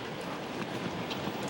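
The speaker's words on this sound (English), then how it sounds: "The gust of wind as he served that last one." Broadband wind rushes steadily across an outdoor tennis court during a professional match, a dense, even roar with no clear voices over it.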